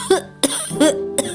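A man coughs several times in short, rough bursts, four hacking coughs spaced about a third of a second apart, close and fairly loud with no other sound around them.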